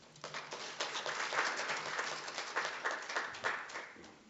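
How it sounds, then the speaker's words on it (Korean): An audience at a Korean national land policy forum gives dense, sustained applause of many hands clapping together, moderately loud and without speech. "박수 부탁드립니다"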